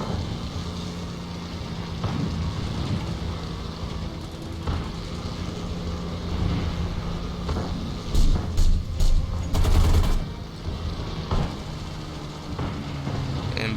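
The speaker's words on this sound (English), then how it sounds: "I was shooting my machine guns and my cannon on this plane." An Airacobra plane fires its machine guns and cannon in the War Thunder video game, rapid bursts of gunfire cutting through the steady drone of the engine, with louder clusters of shots near the middle.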